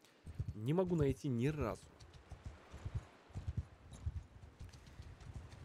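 Horse hooves clip-clopping in Mount and Blade 2 Bannerlord, a soft, steady rhythm of footfalls running through the whole stretch beneath someone talking.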